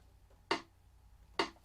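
Two crisp metronome ticks, evenly spaced and close up, set at a slow tempo in a quiet room.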